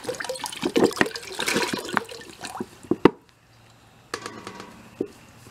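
Hydrogen peroxide poured from bottles onto a deer skull: a steady gurgling splash and glug of liquid for about three seconds, then a pause and a quieter second pour with drips.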